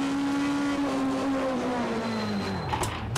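A race car engine from the sim racing game X Motor Racing holds a steady, buzzing tone whose pitch slowly sinks as the revs fall. It plays alone and fairly loud, with a brief higher rasp near the end.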